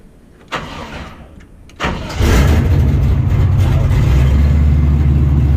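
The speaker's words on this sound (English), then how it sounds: "now I'm going to turn on the truck" An LS-swapped truck with a repaired alternator cranks briefly, catches after about two seconds and settles into a loud, steady, rumbling idle close by, with no talking over it.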